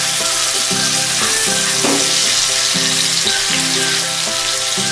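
Chicken tangdi kabab frying in a pan sizzles loud and close, a dense hiss that runs all the way through, with a brief scrape as the drumsticks are flipped over. Nobody speaks.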